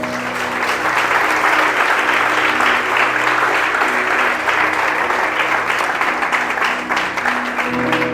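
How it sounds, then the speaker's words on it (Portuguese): A church congregation at a joyful Portuguese-language worship service applauds loudly and continuously for about eight seconds, a thick, steady wash of clapping with faint crowd voices underneath. "Aplauda Jesus Cristo."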